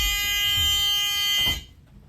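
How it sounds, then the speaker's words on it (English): A steady electronic alarm tone from a bus rear emergency door, with multiple harmonic lines, sounds continuously, then cuts off abruptly, leaving near silence. "Then you have your rear emergency door, which opens and operates, and the alarm sounds."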